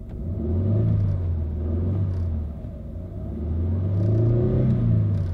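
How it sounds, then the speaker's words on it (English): A luxury SUV engine revving while running rough, heard up close as a deep rumble that rises and falls in two long surges, with no talking. "when I rev it up, you can feel the engine isn't running right"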